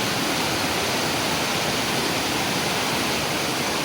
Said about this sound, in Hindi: ये बीच में एक छोटी सी आबशार बन गई है फुटपाथ होने की वजह से।